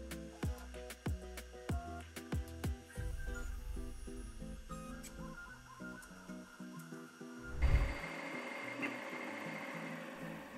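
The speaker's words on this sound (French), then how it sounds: "Le bruit de la tête d'impression est sympa, on dirait qu'elle chante ou qu'elle essaye de parler." A TwoTrees SK1 3D printer printing a Benchy boat makes pitched, tonal stepper-motor whines and quick rhythmic chirps as the print head moves, with a brief louder whoosh late on, all close and without talk.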